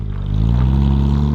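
Porsche 911 GT3 RS with straight pipes revs hard, a loud, close engine note climbing steadily in pitch with strong harmonics and rough exhaust rasp.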